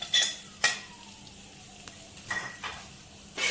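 Spices such as ajwain, red chilli, cumin and ground coriander are stirred and roasted in a pan, with soft sizzling and a few scraping strokes of a spoon, close and without talk.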